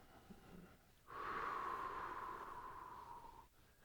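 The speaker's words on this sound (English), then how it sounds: "big inhale, big exhale." A single long, deep breath drawn in and let out, soft and close, rising sharply then holding steady for about two seconds before fading, with no talk over it.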